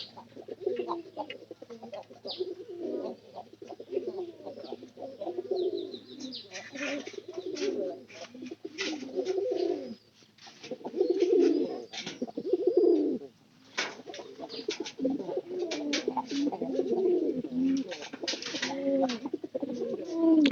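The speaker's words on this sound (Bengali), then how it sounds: "পায়রা ডাক দেখেন" Pet pigeons coo steadily and close by, their low burbling calls overlapping throughout with a few brief chirps.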